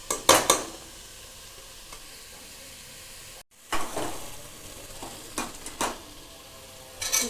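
Potatoes simmering on low heat in a pan, a soft sizzle punctuated by a few sharp spoon scrapes and knocks, with a brief silent break midway and no voices.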